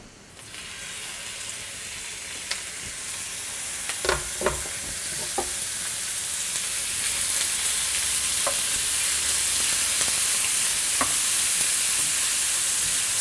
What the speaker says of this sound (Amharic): ስጋው ልክ እሳት ሲነካው ይሄው የምትሰሙት ድምጽ አለ